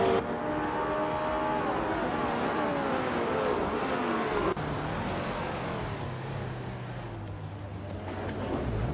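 Vintage 1966 Porsche 906 race car engine in a racing video game, a continuous revving whine with rising and falling pitch sweeps as it shifts gears, steady and fairly loud, with faint talk in the background.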